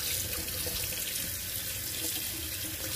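Tap water runs steadily into a sink, rinsing smoked herring, a continuous close splashing hiss with no talk.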